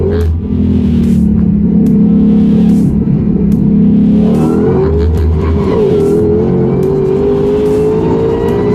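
A tuned 2021 Ford Mustang GT500 accelerates hard, its loud, close engine roar climbing in pitch through the gears with a brief shift break before pulling higher again.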